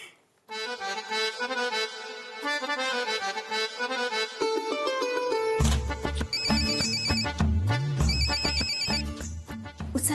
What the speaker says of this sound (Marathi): रिंग तर जाऊन दे ना